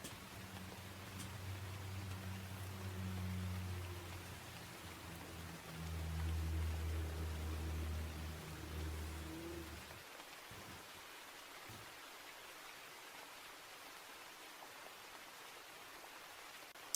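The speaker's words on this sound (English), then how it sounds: "Are these rain sounds? Yes, there are rain sounds playing." Rain sounds play softly as nature ASMR in the background, a constant hiss of falling drops with a low hum that fades partway through, leaving the thin rain noise alone.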